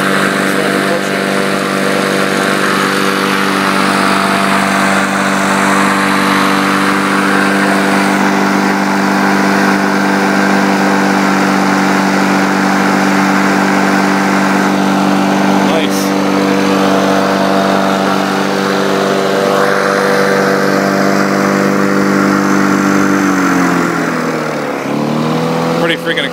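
A 1976 Lawn Boy 8234 lawn mower engine runs loud and close, a steady buzzing two-stroke drone with a strong harmonic whine that dips briefly near the end.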